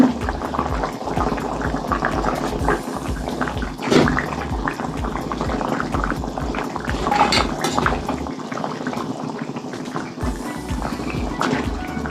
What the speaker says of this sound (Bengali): মাছের গুলো ঝোলের সঙ্গে একটু ফুটুক